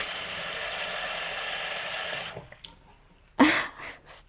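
Water streams steadily from a tap or pitcher for a couple of seconds while a houseplant is watered, then stops, followed by a few short splashes and clatters nearby.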